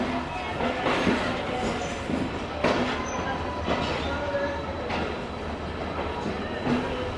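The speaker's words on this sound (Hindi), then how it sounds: "आहिस्ता आहिस्ता यार्ड स्पीड को फॉलो करते हुए ट्रेन हमारे निकल रही है कोटी जंक्शन से" The Tezgam passenger train rolls slowly out of Kotri Junction at yard speed, heard from inside an economy coach: a steady rumbling drone with periodic wheel clacks over rail joints and faint squeals, loud and close.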